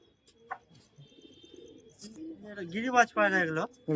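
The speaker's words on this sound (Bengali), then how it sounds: "এটা নর পায়রা এটা মাদা পায়রা" Giribaz pigeons, a male and a female, coo in soft, throaty bursts, growing louder toward the end, with a few faint clicks and someone talking close by.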